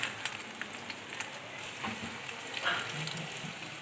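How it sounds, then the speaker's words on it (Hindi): Chicken potato kebabs fry in hot ghee with a soft, even crackling sizzle and a few brief pops, fairly quiet and with no voices. "अब मैं इसको तलने लगी हूँ। घी ज़रा मेरा ज़्यादा गर्म हो गया, मैं 2 मिनट तक तलती हूँ।"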